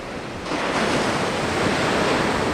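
Sea waves break on the shore in south Crete in winter, a loud continuous wash of surf that swells after a moment and mixes with wind buffeting the microphone.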